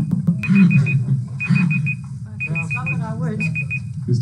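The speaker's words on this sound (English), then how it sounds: "Whose timer is it?" A timer alarm beeps in repeated quick bursts of four to five high electronic tones, sounding four times over steady room talk during a manufacturing tech talk session.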